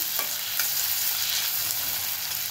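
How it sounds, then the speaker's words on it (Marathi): Onion and tomato fry in a pan for dum aloo, giving a steady, close, fairly loud sizzle with a few stirring scrapes throughout and no talking. "कांदा टोमॅटो चांगलं भाजून घ्यायचं"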